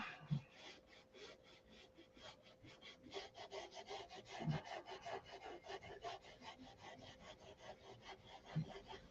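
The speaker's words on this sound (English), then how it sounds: "I'm pushing hard on it and sanding." Rapid back-and-forth rasping strokes, like sandpaper rubbed hard over a surface, steady and close for several seconds.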